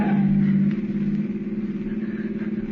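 Car engine in an old-time radio drama, a steady loud mid-pitched drone that dips slightly after the first moment and holds on with a faint rhythmic pulse, no voices.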